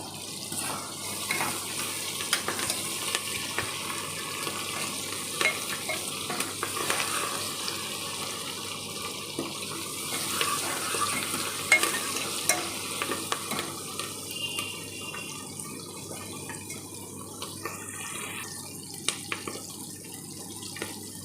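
Tomatoes and fresh curry leaves frying and being stirred in a pan for sheep head curry, a steady sizzle with intermittent scraping running throughout, close and moderately loud, with no talking.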